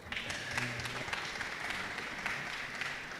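A small audience at a forum in a secondary school claps steadily for a few seconds, a moderate, even patter of applause without cheering.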